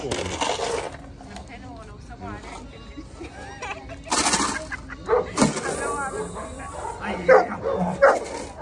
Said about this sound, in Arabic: الكلب لازم ينبح في الأماكن عشان يعلن سيطرته